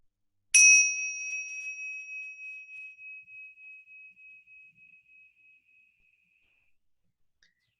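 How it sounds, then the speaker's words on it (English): A single bell is struck once and rings out clearly, its pure tone slowly shimmering and fading away over several seconds into silence. "I'm going to begin this with the ringing of a single bell."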